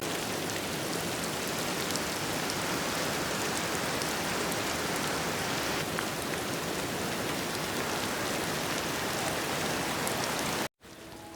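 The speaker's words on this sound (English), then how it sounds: "While it rained outside" Rain falls steadily outside at a homestead, a dense, even hiss of drops hitting surfaces that continues unbroken until it cuts off just before the end.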